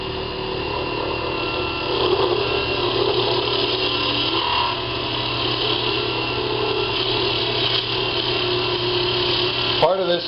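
A wood lathe spins a wooden fishing rod handle while a fairly dull chisel cuts into it, giving a steady, loud grinding rasp with motor hum throughout and a brief clatter near the end.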